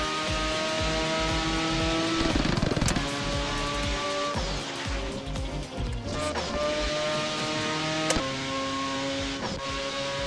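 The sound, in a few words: Mazda RX-7 car engine in a drifting video game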